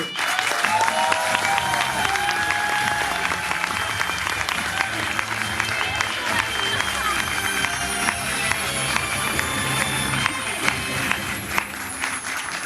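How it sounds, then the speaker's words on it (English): Crowd at a Disney Duffy & Friends fan event panel applauds the guests, a loud, dense, continuous burst of clapping and crowd noise that holds steady, close and unbroken. "I need you guys, please, a big round of applause"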